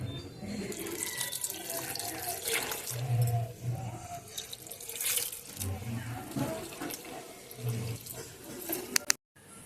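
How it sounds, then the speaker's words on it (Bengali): Water splashes from a mug into the soil around a chilli plant freshly set in a pot, a close, uneven pour lasting several seconds, with faint voice sounds mixed in and an abrupt stop at the end. "এবার আমি এক মগ মতো জল দিয়ে দেবো চারপাশ থেকে"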